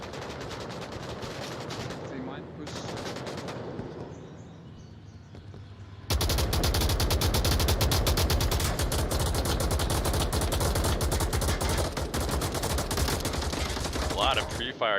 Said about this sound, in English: lots of bullets being sent downrange